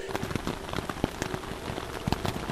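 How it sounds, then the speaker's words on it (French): Rain beats down on a tent, foliage and dead leaves in a forest, a dense, irregular patter of close drops and sharper taps that continues throughout with no talking. "dans le brouhaha de la pluie qui s'abattait sur la tente, sur le feuillage, sur les feuilles mortes autour de la tente"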